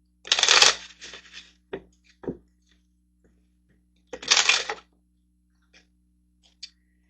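Tarot cards are shuffled by hand for a daily healing card draw, two short bursts of riffling flutter with a few light taps and clicks between them in an otherwise quiet room.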